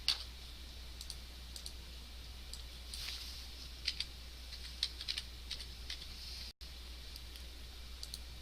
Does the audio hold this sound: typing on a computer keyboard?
yes